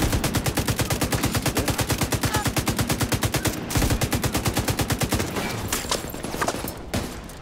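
Rapid automatic gunfire in The Division 2 shooter game, a fast, steady stream of loud shots that runs for about five seconds before breaking into scattered bursts and impacts.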